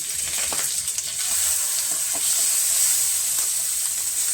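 Curry leaves dropped into a hot pan of oil while making chutney sizzle steadily, a bright continuous hiss with small crackles and faint stirring, close and alone.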